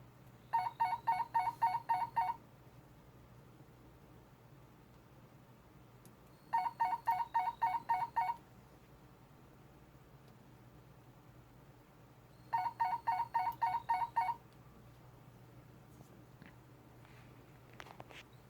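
Telephone ringing in three bursts of rapid electronic trilling, each about two seconds long with long quiet gaps between, fairly close and clear over a low hum, triggering a Wheelock PS-15A Telstrobe telephone strobe light.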